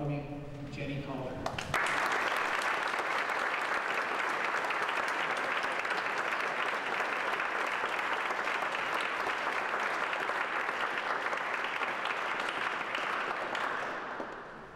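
A lecture audience welcomes the speaker with sustained applause. A voice comes first, then dense clapping starts and holds steady and loud for about twelve seconds before it fades.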